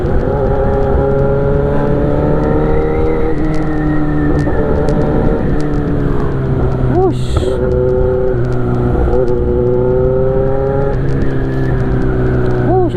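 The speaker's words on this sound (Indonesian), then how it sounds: "wow kurang kencang men suara knalpotnya" Motorcycle engine and exhaust on a solo night ride, a steady droning note that rises and falls with throttle changes throughout, with a brief sharp burst partway through.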